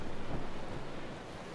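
Ocean waves in the naval battle game Naval Action surge and wash in a steady, close rumble, alone with no voices.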